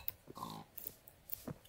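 Pigs grunting in the video game Minecraft: a few short, separate oinks and grunts spread across under two seconds, fairly close and moderately loud against a quiet game background.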